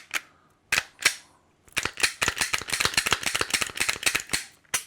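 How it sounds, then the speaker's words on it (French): Glock pistol after full disassembly and reassembly for cleaning, its mechanism dry-fired and worked by hand: a few isolated sharp metallic clicks, then a rapid, steady run of close, crisp snaps and clacks with no voices. "On entend le percuteur."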